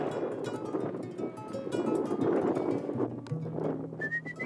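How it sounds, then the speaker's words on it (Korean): A guide's short rising whistle sounds near the end, thin and fairly clear, over a steady wash of wind and outdoor rumble in sandy desert in southern Africa. "가이드가 휘파람을 불자 어디선가 종달새가 날아온다."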